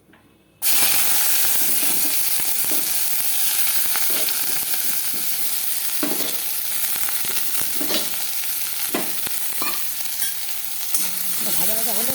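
Chopped onion hits hot oil in a pan with a sudden burst of sizzling that settles into a loud, steady frying hiss, broken by occasional scraping stirs, close up with no talking.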